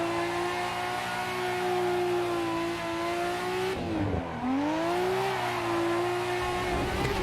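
Nissan Skyline 'Beercan' drift car engine in a sim racing game, droning steadily at high revs, dipping briefly mid-clip as the throttle lifts and then climbing back up, loud and close throughout.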